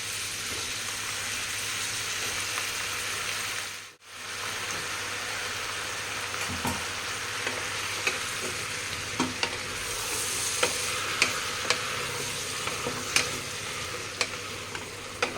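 A quarter kilo of washed, chopped brinjal (eggplant) sizzling steadily in a hot pan, a constant close frying hiss with occasional soft scrapes and taps of stirring and a brief dip near the start.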